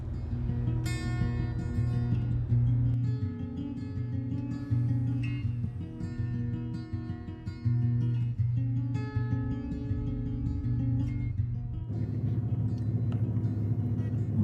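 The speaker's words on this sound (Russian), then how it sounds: "Мы уже выезжаем из корабля." A car rolls off a ferry from Tallinn toward Stockholm, its engine rumbling low and steady, with clanks and thumps over the ramp, close and fairly loud, with no talk.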